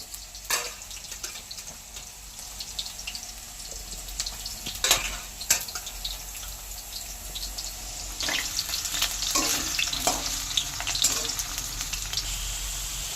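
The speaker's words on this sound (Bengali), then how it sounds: "এবার একটু আলু ভেজে নেব।" Potatoes fry in hot oil with a light, steady sizzle, and sharp clinks and scrapes of a utensil against the pan come through at intervals. No one speaks.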